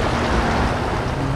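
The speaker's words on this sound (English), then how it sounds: "Waves are rushing at me right now." Waves rushing in at the shore while fishing from the beach, a loud, steady broadband wash that stays constant throughout the short moment.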